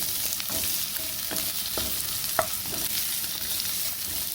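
Sautéing for a creamy coconut bean pasta: a steady sizzle fills the pan throughout, with occasional soft clicks and scrapes of a utensil stirring, and one brief sharper tap near the middle, with no talking.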